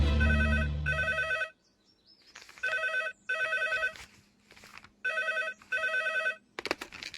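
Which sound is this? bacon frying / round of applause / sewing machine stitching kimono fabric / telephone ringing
telephone ringing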